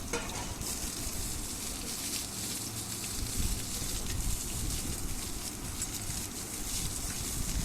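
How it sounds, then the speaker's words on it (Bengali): Potato pieces fry with a steady, dense sizzle and crackle in hot mustard oil in a wok seasoned with five-spice, dried chilli and bay leaf, continuous and close throughout with faint stirring. "আলু দেওয়ার পর বেশ কিছু সময় কষিয়ে নেব"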